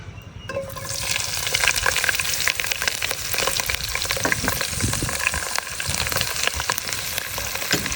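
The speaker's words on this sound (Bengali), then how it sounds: "তেল গরম হয়ে গেছে এখন আমি পেঁয়াজ কুচি আর মরিচ কুচিটা দিয়ে দিব" Chopped onion and chili dropped into hot oil sizzle loudly and continuously after a brief quiet start, with occasional stirring, close to the microphone and without speech.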